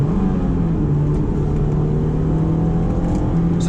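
A Honda S2000 engine revs hard near its 8,000 RPM VTEC redline, giving a loud, steady, high-pitched engine wail that holds almost level throughout, heard from inside the car with no talking.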